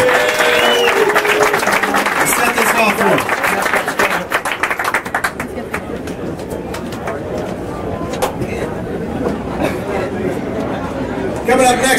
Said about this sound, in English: Let's give a round of applause to the Bridge right now.